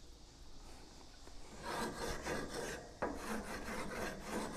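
Scraping and brushing across a hot grill surface while cleaning it before grilling flat iron steak, a steady rasping rub with repeated strokes that grow louder partway through, close and alone with no talking.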